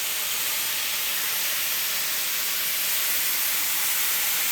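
Finely minced onion sizzles in a hot pan with a steady, bright hiss that grows slightly louder toward the end, with no talking over it.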